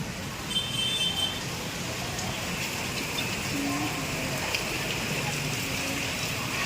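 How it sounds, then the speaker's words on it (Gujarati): Heavy rain pours outside a house during a sudden monsoon downpour, a steady, dense hiss that holds at an even level throughout, with faint voices underneath. "અને બહાર એટલો ફાસ્ટ વરસાદ આવે છે"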